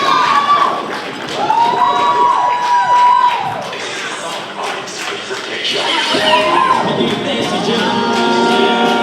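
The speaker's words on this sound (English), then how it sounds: "Let's give him a round of applause." Cheering, whistling and clapping from a crowd at a Zimbabwe awards show in Cape Town, greeting a local artist; loud and sustained throughout, with shouts and voices rising above the crowd noise.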